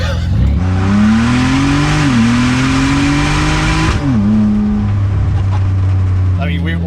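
A twin-turbo EcoBoost-swapped Ford Ranger drives slowly, its engine droning loudly from inside the cabin with a rising pitch that dips at gear changes, roaring continuously beneath a talking voice.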